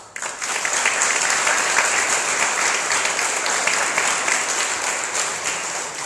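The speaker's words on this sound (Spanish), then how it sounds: "Quiero que le brindemos un aplauso." Sustained audience applause fills a hall at a judicial electoral federalism forum, a dense, steady wash of many hands clapping, loud and even for several seconds with no speech over it.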